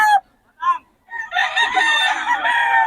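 A few short clucks from chickens, then a rooster lets out a long, loud crow nearby.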